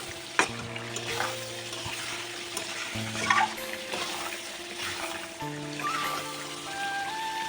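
Raw mango pickle with salt and spices fries in oil in a pan and is stirred with a spatula, giving a soft continuous sizzle with occasional scrapes and clinks, while faint background voices or a sustained tone run underneath.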